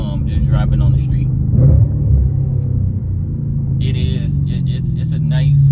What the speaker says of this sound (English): What I can see now, just driving on the street